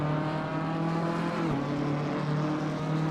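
BMW M4 GT3 race car engine in Assetto Corsa Competizione, a loud, continuous high-revving drone that dips briefly with a gear shift, then climbs again as the car accelerates.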